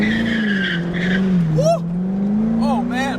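A C5 Corvette fitted with a Billy Boat Bullet axle-back exhaust drones loudly and steadily close by. Its tone rises and falls slightly, brief tire squeals cut through, and people shout and cheer over it.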